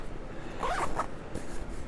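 A zipper on a pocket of a 5.11 Tactical RUSH backpack drawn open in one quick close rasp, with a short second pull after it.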